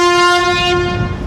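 The horn of the M2M ferry in Mumbai sounds one loud, steady, tonal blast close by, fading away toward the end over low background rumble.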